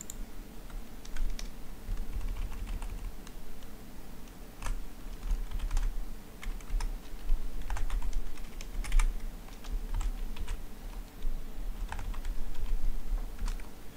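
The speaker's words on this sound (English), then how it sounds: "So what we need to do is we need to type in the HTML tags first." HTML tags are typed on a computer keyboard in continuous close clicking keystrokes, with bursts and brief pauses, and no talking.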